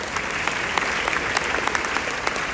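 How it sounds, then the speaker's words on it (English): Sustained applause from a crowd, a dense even patter of many hands at a moderate distance. "Let's give them a round of applause."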